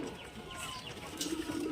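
Murshidabadi pigeons cooing softly nearby, a low murmuring coo in a quiet setting over faint background noise.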